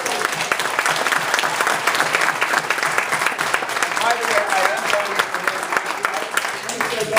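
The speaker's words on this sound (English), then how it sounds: "Now you can applaud." Sustained, dense applause from an audience at a 2012 Illinois 8th District political campaign event, loud and steady throughout with no voice speaking over it.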